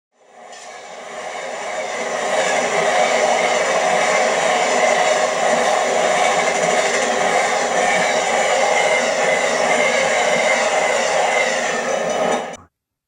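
An eastbound Amtrak Southwest Chief passenger train from the late 1990s, hauling Roadrailer trailers at the rear, passes by with a steady, loud broadband roar that builds in quickly and holds for about ten seconds before cutting off.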